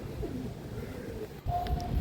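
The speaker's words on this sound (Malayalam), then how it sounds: "ഇത് രണ്ട് പ്രാവും നമ്മുടെ ഓൺ ബ്രീഡിങ്ങിലുള്ള പ്രാവുകളാണ്" Soft, low pigeon cooing rumbles on and off over steady background noise, with a brief dip midway and a faint whistle-like tone near the end.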